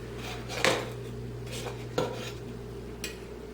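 A spatula scrapes leftover frosting off against the edge of a bowl while a turkey-shaped cake is decorated, giving a few sharp clinks and scrapes at irregular intervals over a quiet room background, close and moderately loud.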